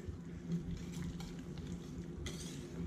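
Spoon stirring a ham and mushroom crêpe filling in a pan, giving a soft, continuous scraping and light sizzle with faint clinks, quiet and close, with no talk.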